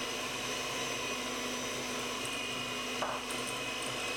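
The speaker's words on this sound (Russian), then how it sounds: "Куриные яйца слегка взбиваем миксером." An electric hand mixer lightly beats chicken eggs for a carrot cake batter, giving a steady, even motor whir that runs unbroken and fairly loud throughout, with no voices.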